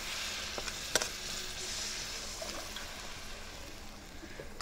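Egg curry gravy being stirred in a pan, a soft continuous sizzle with faint scraping, no voices.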